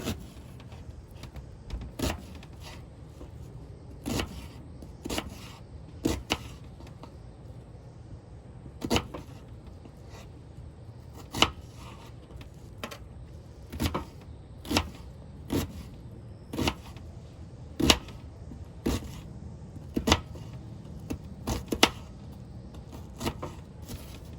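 Imitation crab being chopped with a knife on a board, a series of sharp, separate knocks at an uneven pace over a quiet background, with no talking.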